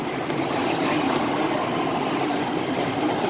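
A Los Angeles Metro E Line train passing by, giving a steady loud rushing rumble with wheel and track noise throughout, with no voices.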